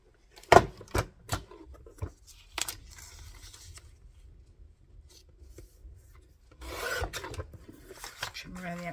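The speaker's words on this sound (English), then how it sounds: "Trim around the outside like I did before." A paper trimmer slices card around a printed Happy Birthday sentiment for a handmade card, giving several sharp, close snips and taps followed by a longer rasping cut, with quiet gaps between.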